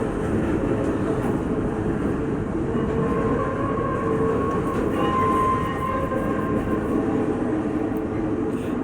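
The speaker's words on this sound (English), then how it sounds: "Give y'all a little train action for a moment." A freight train rumbles past steadily for several seconds, a loud continuous roar of rolling wheels with faint metallic squeals over it.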